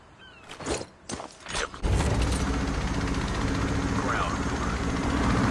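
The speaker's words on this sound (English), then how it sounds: "Has deployed chopper gunner." Chopper gunner helicopter in Call of Duty Mobile: a few sharp mechanical clicks and clatters, then a dense continuous rotor and engine roar that holds steady to the end.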